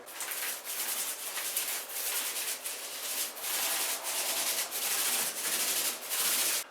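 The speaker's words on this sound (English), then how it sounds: "you're now going to roll all the surfaces with a roller" A paint roller passes over shower tile surfaces coated in a refinishing bond coat, making close, soft, sticky rasping strokes in a regular back-and-forth rhythm with short pauses between passes.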